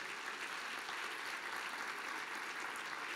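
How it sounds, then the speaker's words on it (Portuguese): A church congregation applauds steadily during an evening service marking 500 years of the Protestant Reformation, a dense, even wash of many hands clapping that fills the room without a break. "Vamos aplaudir ao Senhor."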